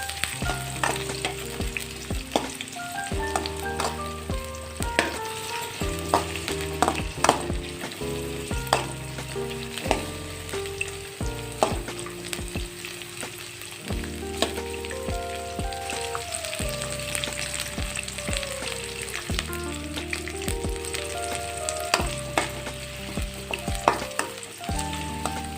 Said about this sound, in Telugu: ఒక పెద్ద సైజు ఆనియన్ తరుగు వేసి బాగా ఎర్రగా వేయించుకోండి